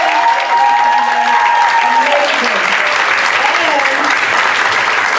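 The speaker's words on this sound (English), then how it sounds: "Applause." Sustained applause from a stand-up comedy show audience, steady clapping filling the room with a few scattered cheers.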